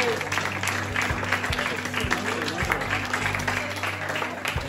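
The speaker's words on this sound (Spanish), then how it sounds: "¡Dale más palmas!" Continuous crowd applause honoring chess tournament champions, a steady dense wash of clapping at moderate distance with a low hum underneath, sustained without a break.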